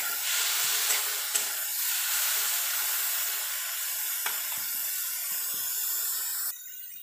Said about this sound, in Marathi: त्याच कढईमध्ये मी टोमॅटो टाकलेला आहे व तो पण थोडासा लाल होऊ देणार आहे